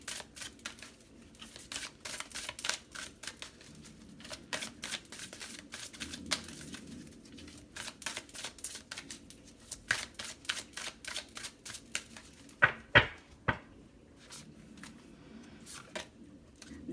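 Oracle cards being shuffled and drawn, a long run of rapid, crisp riffling flicks and slaps in bursts, close-up and fairly quiet, ending with a few louder single card snaps.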